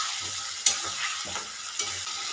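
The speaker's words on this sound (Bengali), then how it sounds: "এই পেস্টটাকেও খুব ভালো করে ভেজে নিচ্ছি।" A spice paste of onion, ginger, garlic and dried chilli fries in a pan for a mutton curry. It gives a steady close sizzle with a few sharp stirring scrapes and no talking.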